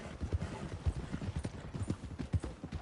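Horse hooves clip-clopping at a steady walking gait in Red Dead Redemption 2, with regular, fairly soft, close thuds and no talk over them.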